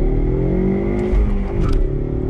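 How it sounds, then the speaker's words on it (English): Ford Mustang EcoBoost with a 6-speed manual pulling away from a dead stop, its engine droning loud and steady from inside the cabin, with a rising rev swell through the middle. "let's do a little acceleration test here. I'm gonna come to a dead stop."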